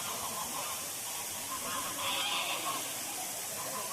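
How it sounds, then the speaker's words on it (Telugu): Tall white ducks fighting and pecking at one another, giving harsh honking calls over a steady loud crowd-like wash of noise, continuous throughout. "సో ఒకదాన్ని ఎలా పొడుస్తున్నాయో ఇవి ఎలా అరుస్తున్నాయో చూసారా."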